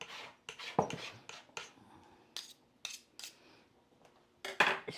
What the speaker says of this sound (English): I find cleanup so much easier if I've got either a hard spatula or one of these steel rulers. And so look, just scrape it all.